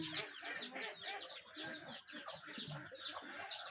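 Ducks clucking and chattering in a coop at dawn give a steady, busy stream of calls, fairly close and moderately loud, with a person speaking at times.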